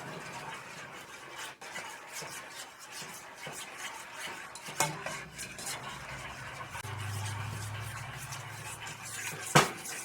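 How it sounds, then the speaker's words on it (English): A sour cream sauce is stirred into pan drippings over medium heat, with soft repeated scraping and light clinks of a utensil against the pan and a couple of sharper knocks, no voices. "We're going to stir this into the pan drippings."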